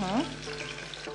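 Whole cloves and green cardamom pods fry in hot oil in a home kitchen pan, giving a steady, close, moderately loud sizzle with a brief stirring scrape near the start.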